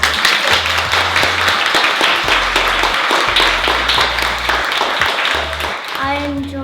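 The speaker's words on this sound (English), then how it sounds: "give everyone a massive round of applause" Audience at a philosophy event in Leeds breaks into sustained loud applause, steady and close, with background music playing beneath it.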